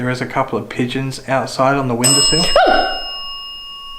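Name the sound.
bell ringing during paranormal investigation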